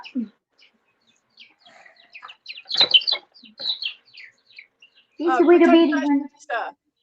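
Silkie chickens cluck and chirp near a keeper, a scattering of soft, short calls across the span with one longer, louder call near the end, and a person talks among them.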